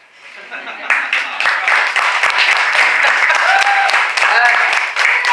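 An audience at a Sacramento poetry reading breaks into dense, steady clapping that swells quickly from a quiet start and holds, with a voice faintly over it.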